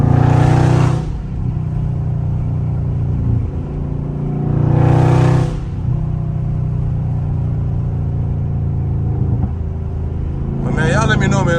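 Dodge Charger Scat Pack in sport mode, its engine swelling into three loud revs spaced a few seconds apart over a steady low idle rumble, up close.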